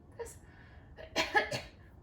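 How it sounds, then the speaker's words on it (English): A short muffled cough comes first, then a louder, fuller cough or sneeze, both close and dampened, made into the inside of the arm. "you want to cough and sneeze on the inside of your arm"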